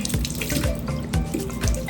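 Tap water runs steadily into a sink during face washing, a close, continuous splashing stream with small irregular spatters and no voices.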